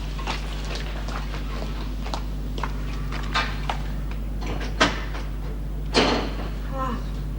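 A door opens inside a house, heard as a couple of soft clicks and knocks against a steady electrical hum and faint room movement.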